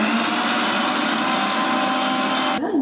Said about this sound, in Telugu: డైరెక్ట్ ఇప్పుడు మిక్సీ పట్టేసి తాగేది